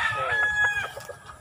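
A rooster crows on a backyard poultry farm, one drawn-out call heard fairly close, followed by softer clucking from nearby chickens with no talking.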